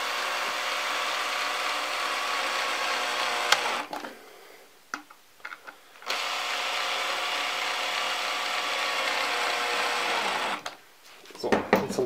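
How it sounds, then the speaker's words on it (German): A cordless screwdriver drives screws into a DIY puppet armchair, its motor whirring steadily for a few seconds, then a short pause with small clicks, then another long run before it stops. "nehme ich mir meine Schrauben und den Akkuschrauber und dann drücke ich das so ein bisschen zusammen und schraube das einmal fest"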